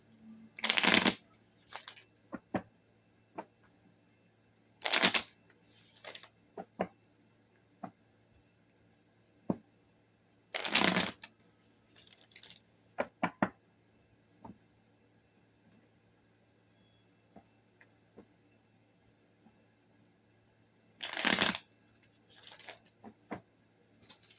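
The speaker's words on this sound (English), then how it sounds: "Let's give them a good shuffle." Cards being shuffled in several quick riffling bursts separated by quiet gaps, with small taps and clicks of handling in between.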